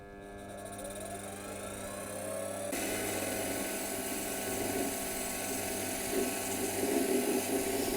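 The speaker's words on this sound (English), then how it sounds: "So first time powering the lathe up with the inverter." A mini lathe powered through an inverter spins up with a rising motor whine that settles into a steady, fairly loud mechanical hum, heard alone without talk.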